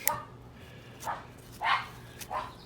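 Neighbours' dogs bark at a distance, three or four separate faint woofs spaced about half a second apart against a quiet background.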